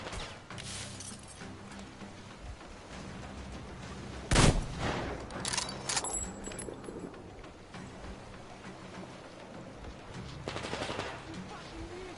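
Gunfire in the Metro Exodus video game, sustained machine-gun bursts and rattling shots, with one sharp loud blast near the middle and further volleys later, mixed with faint background voices.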